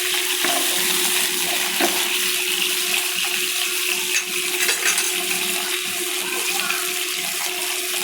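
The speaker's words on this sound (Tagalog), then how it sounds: "Add water." Water being poured into a pan of ginger sauce for fish, a continuous loud splashing pour that runs steadily throughout.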